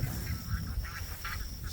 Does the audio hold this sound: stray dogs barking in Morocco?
no